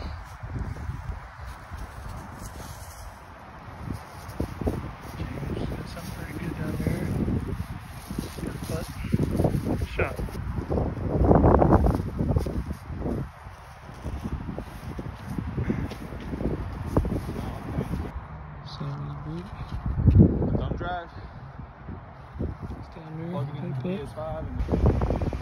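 Heavy left-to-right wind buffeting across a disc golf course, a steady rushing roar and microphone rumble that swells and eases throughout, with players talking over it.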